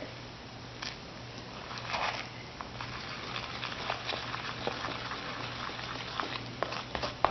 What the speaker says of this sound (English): I mix it real fast so it can thicken up